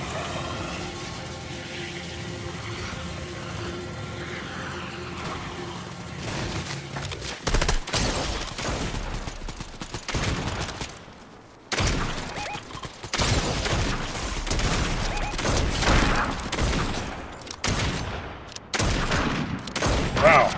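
Repeated blasts from a mythic Infiltrator pump shotgun in a video game, loud bursts in the second half after a quieter stretch with faint in-game noise.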